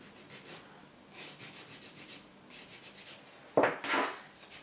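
A 150 grit nail file rasps over an acrylic nail around the cuticle and side walls in soft, close, repeated strokes, ending with a few sharper scrapes.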